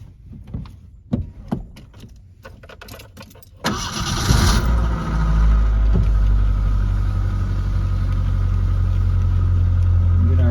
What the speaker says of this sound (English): So let's get the old truck going here.